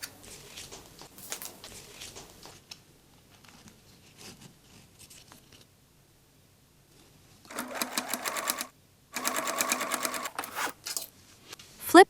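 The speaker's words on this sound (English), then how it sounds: "stitch the ends in place with a straight machine stitch" A sewing machine runs straight stitches across the ends of denim bag handles, with quiet handling and fabric rustle at first, then two loud, rapid bursts of stitching near the end, close by and alone.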